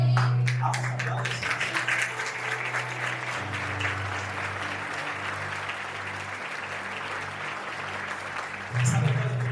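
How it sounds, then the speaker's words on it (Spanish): Steady applause from a church congregation, sustained at an even level throughout, with a low tonal hum and a brief louder swell near the end. "Vamos a aplaudir."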